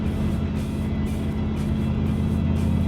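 A Chevrolet Corvette L36 convertible's big block engine burbling steadily through side pipes, a deep, mellow, even idle-like rumble, loud and close with no talk over it.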